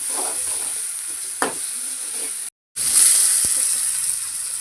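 Chicken curry with ginger sizzles steadily in a pan while being stirred, with a brief scrape partway through and a short cut in the sound. Occasional soft utensil clinks rise over the constant frying hiss.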